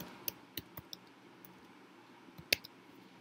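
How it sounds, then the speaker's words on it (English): Light, irregular clicks of fingers typing on a computer keyboard, a handful of sharp close keystrokes with pauses between them in an otherwise quiet room. "so I'm typing syllabus here"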